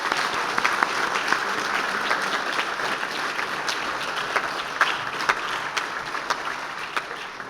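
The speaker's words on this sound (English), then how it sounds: "Give them a round of applause." Steady applause from an audience at a 2021 college sports awards ceremony at Kuranui, with sharper individual claps standing out over the dense clapping throughout.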